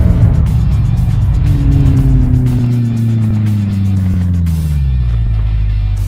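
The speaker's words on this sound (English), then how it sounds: "Now let's take a look at what happens when somebody jams on the brakes." A car braking hard to a stop, loud engine and tire roar with a falling pitch as the vehicle decelerates, close and continuous without talk.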